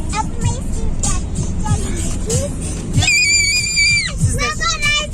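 A child screams inside a car, with a series of sharp, high, wailing shrieks that grow sustained and loud toward the middle, mixed with adult talk and cabin noise.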